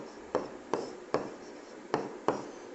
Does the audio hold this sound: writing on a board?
yes